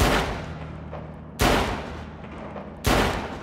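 Three sharp gunshots ring out in a TV series scene, about 1.4 seconds apart, each a sudden loud crack with a decaying tail.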